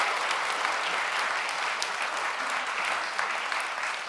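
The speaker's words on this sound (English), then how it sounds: "A round of applause for him." Audience at a fall school choir concert claps in a dense, even wash of applause, steady and moderately loud throughout with no talking over it.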